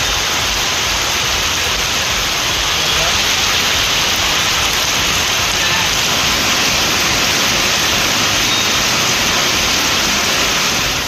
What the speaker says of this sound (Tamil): காற்றுடன் கூடிய கனமழை பெய்தது